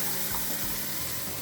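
Spices being tempered in hot oil for a Karnataka-style palak curry, a dense continuous sizzle with no pauses over the brief moment.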